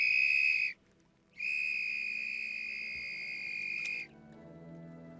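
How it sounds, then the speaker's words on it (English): A life raft survival whistle shrills loud and close in two long sustained blasts separated by a short gap, the second lasting about three seconds, with no talk. "The whistle is 3 to 5 times louder than the human voice."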